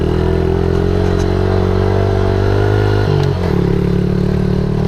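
A Suzuki DRZ 70 dirt bike engine lugs uphill in too high a gear, a steady loud low drone that dips and shifts pitch briefly near the end.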